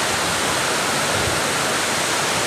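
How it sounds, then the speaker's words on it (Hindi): A mountain river along the Amarnath Yatra route near Pahalgam and Baltal rushes below. It makes a steady, dense roar of flowing water with no pauses and no voices. "देख रहे हो नीचे बह रही है नदी"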